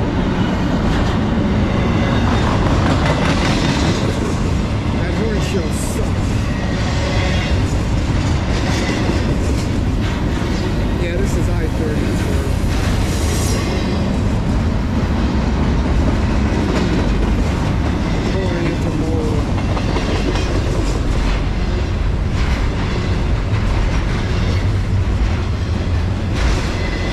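A CSX freight train carrying orange juice rolls past close by, its wheels clacking in a steady rhythm over rail joints under a constant loud rumble, with faint talk in the background.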